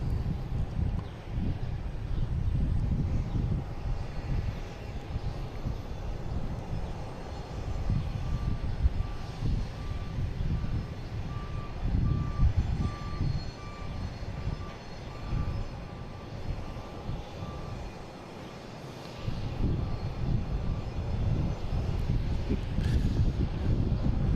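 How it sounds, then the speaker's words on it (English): A Delta airliner arriving from Fort Lauderdale roars in at Boston Logan International Airport, a loud, sustained jet engine rumble that swells and fades slightly over about twenty seconds of steady noise. "next to arrive is a Delta coming in from Fort Lauderdale"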